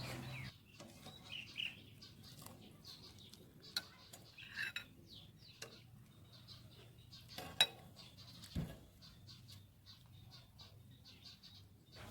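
Hot sweet egg dessert ladled from a pot over boiled taro, with metal utensil clinks, scrapes and light splashes scattered over a steady low background hum, close and moderately quiet.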